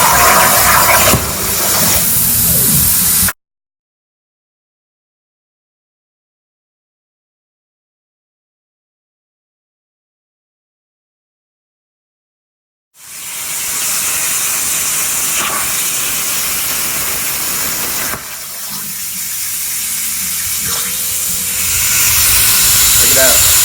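A Piranha B-Series plasma cutter hisses loudly and steadily while cutting a fish plate from 3/16 steel plate in a shop, in two bursts separated by a long silence, the second growing slightly louder.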